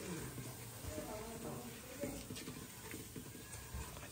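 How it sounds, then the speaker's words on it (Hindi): Food cooking with turmeric in a pan is stirred, a faint scraping and soft sizzle running steadily under a low background hum. "अभी स्टर करना है"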